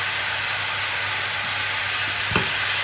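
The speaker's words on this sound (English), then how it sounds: "we're going to cook down these mushrooms" Mushrooms sizzle steadily as they cook down in a pan for a stroganoff, a constant broadband hiss with a single brief stir or clack near the end.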